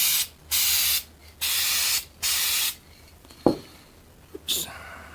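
A spray gun lays another coat of paint on a Pontiac GTO in short, loud hissing bursts, three or four close together, followed by quieter clicks and a brief final puff.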